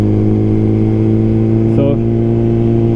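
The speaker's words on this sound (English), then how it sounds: "If you can hear the quick shifter, it's smooth and aggressive." Suzuki GSX-R1000R with a Brocks exhaust rides with a loud, steady engine drone, broken by one brief quick-shifter shift that makes a short pitch jump near the middle.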